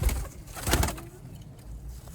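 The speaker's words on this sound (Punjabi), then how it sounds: "ਚੱਲਦੇ ਫਿਰਦੇ ਕਬੂਤਰ ਦੇਖੀ ਜਾਓ" Soft, low cooing from Sialkoti pigeons in a loft, one brief burst standing out near the start against a quiet background, with no voices.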